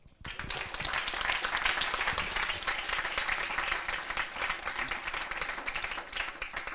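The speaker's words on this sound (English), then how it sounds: "Make a huge round of applause for Lucas." A conference audience breaks into a loud, sustained round of applause for a speaker, dense clapping rising quickly after a brief quiet start and holding steady throughout.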